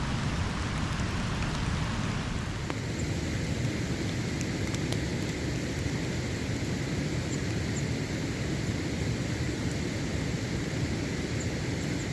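Steady rain pours down by a small stream where fishermen angle for crucian carp, a dense, unbroken wash of noise with a few faint ticks and no voices.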